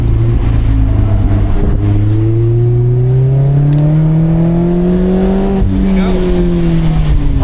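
A Mazda Miata driven hard at autocross, its engine droning loud and close, pitch rising steadily through a long pull, dipping briefly near the end and climbing again, with occasional tire noise.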